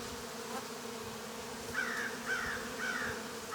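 Honeybees buzz steadily around an open hive during a spring hive cleaning, a low continuous drone with a few brighter passes of individual bees flying close by.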